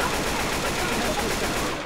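Rapid gunfire from the video game Left 4 Dead 2, a dense, continuous burst of automatic shots that stays loud and steady for about two seconds with no pause.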